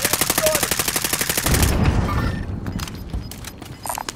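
Rapid automatic gunfire in a multiplayer shooter game, a loud, fast rhythmic burst of shots for about a second and a half, then scattered single shots and game noises while players talk.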